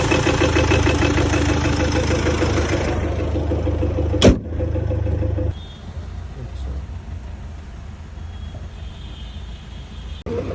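A Mercedes car engine running rough while the car shakes, a loud, uneven low rumble that drops in level partway through, with a sharp knock near the middle.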